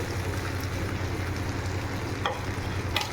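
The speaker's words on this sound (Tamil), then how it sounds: "நன்றாக கிளறி கொடுங்கள் நன்றாக மேலும் கீழுமாக நன்றாக புரட்டி கொடுங்கள்" Tamarind poha upma with tomatoes being stirred and tossed in a pan: a continuous close sizzle with a faint low hum underneath and a couple of light scraping touches near the end. No voices.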